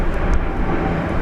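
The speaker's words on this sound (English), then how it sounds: "Nice takeoff." A jet airliner takes off at Brisbane Airport with a loud, dense, rumbling engine roar that holds steady through the brief moment.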